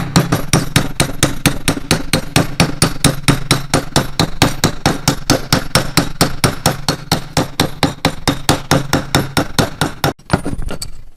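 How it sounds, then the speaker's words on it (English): A ball peen hammer pounds a copper bowl resting on a rough rock, a long run of steady, evenly spaced metallic strikes, close and loud, ending abruptly in a brief clatter. "I'm going to use the ball peen on this one."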